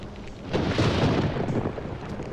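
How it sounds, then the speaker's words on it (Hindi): A film thunderstorm rumbles with one deep, loud roll of thunder that swells and fades over rain-like noise, heard alone without dialogue. "कमाल का तूफान आया यहां"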